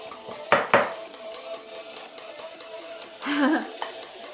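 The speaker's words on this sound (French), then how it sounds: "So we're gonna mix the banana with the eggs all together." Banana is mixed with eggs in a bowl, giving a few sharp utensil clinks against the bowl near the start and a brief scraping, stirring burst later, over a quiet kitchen background.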